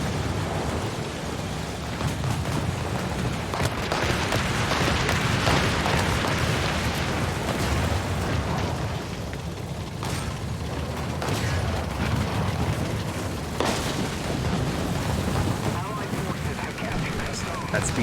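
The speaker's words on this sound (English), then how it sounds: "And there's an artillery barrage coming down" An artillery barrage in the tank combat game War Thunder, a dense continuous rumble of explosions and crashing blasts, heavy and sustained with occasional sharper impacts rising out of the roar.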